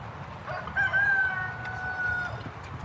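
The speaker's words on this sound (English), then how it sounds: "cock-a-doodle-doo in the background" A rooster crows once, a drawn-out, wavering call a moderate distance away, rising over a steady low background rumble.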